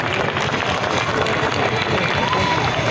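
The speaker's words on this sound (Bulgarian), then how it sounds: "И отново вашите аплодисменти, дами и господа, за екипа на Спартан." Audience applause and crowd noise at an air show in Sofia, continuous and loud, with an announcer's voice over it.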